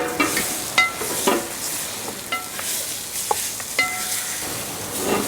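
Chicken biryani stirred in a large pot in a village cooking setting, giving a steady background sizzle with scraping stirs and a few sharp clinks of a spoon against the metal, no voices.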